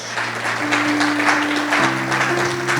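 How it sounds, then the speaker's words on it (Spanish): A church congregation applauds in a continuous wash of clapping while a sustained tone from an organ or keyboard plays beneath it. "¿Por qué no podemos rendirle un aplauso fuerte a Dios y a ellos, hermano?"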